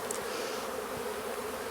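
Honey bees buzz steadily and close during a beehive inspection, a dense, even hum filling the whole moment with no voices over it.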